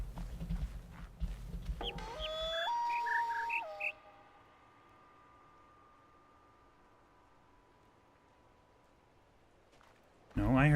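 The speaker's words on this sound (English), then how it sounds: "Do I have to go and find the bird?" Bird chirps from the video game The Witness play as a short run of clear, rising and falling whistled tones over low rumble, then fade into quiet background hum before a burst of other noise at the end.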